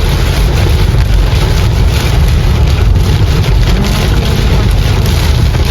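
Steady heavy rain roars continuously, a dense broadband wash with deep low rumble throughout and no voices.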